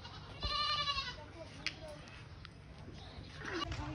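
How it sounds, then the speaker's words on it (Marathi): Goats bleating on a village farm, several wavering calls heard fairly close over outdoor background noise, with people talking nearby. "तुम्हाला मी अजून बकऱ्या दाखवणार आहे. हे बघा बकऱ्या."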